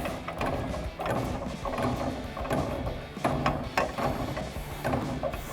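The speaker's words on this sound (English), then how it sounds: "Now I'm going to release the spring under pressure so we can take the cap and the strut bearing top off." Ratcheting clicks and metallic mechanical clatter repeat in quick bursts as a spring compressor releases a coil spring under pressure on a 2011-2014 Ford Mustang strut, close and fairly loud.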